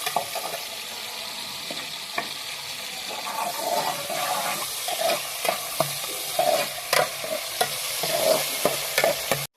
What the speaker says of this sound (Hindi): प्याज को डाल के अब हमने इसको हल्का सा ब्राउन कर लेना है।